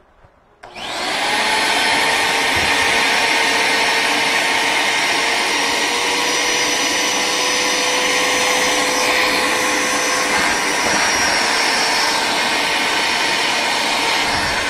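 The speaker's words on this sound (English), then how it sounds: "up here is a cloth lint trap that you need to vacuum" A vacuum cleaner switches on and runs steadily and loudly up close with a high whine as it cleans a cloth lint trap in a laundry-room dryer, with no talking.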